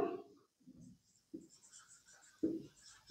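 Chalk or marker strokes on a classroom board during an English grammar lesson, heard as faint, scratchy, intermittent bursts with short pauses between them.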